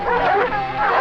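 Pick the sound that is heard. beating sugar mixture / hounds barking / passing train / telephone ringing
hounds barking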